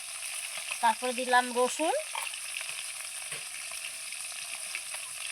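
Sole fish frying in a pan, a steady hissing sizzle throughout, with someone speaking briefly over it early on.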